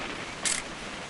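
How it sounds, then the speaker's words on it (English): An old camera snapping a photo in the video game What Remains of Edith Finch: one short mechanical click-whir midway through, heard over a constant rainy background hiss. "Just want to get a shot of you, Dawn, then we can take off."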